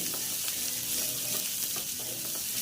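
Onions and green chillies frying with ginger and cashews in a pan, a loud, steady hiss with faint clinks of stirring underneath.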